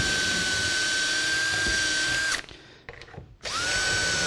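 A power drill whines at a steady high pitch, stops briefly with some clattering, then spins up again, loud and close.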